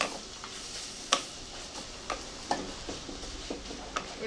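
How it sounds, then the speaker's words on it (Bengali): A spoon scrapes and taps against a pan while vegetable chop filling with mashed potato and fried peanuts is stirred, giving soft irregular knocks at roughly half-second intervals over a faint background sizzle. "ম্যাশ করা আলু ভেজে রাখা বাদাম দিয়ে আমি নাড়াচাড়া করে নেবো"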